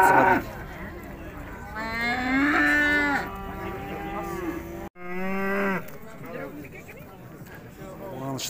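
At the Urzhar livestock market, cattle moo in long, drawn-out calls, one after another, close and loud, with people talking in the busy market around them.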